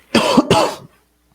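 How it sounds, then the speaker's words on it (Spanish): Two quick, harsh coughs in close succession, loud and near, with nothing else around them. "tengo una tos bastante fuerte"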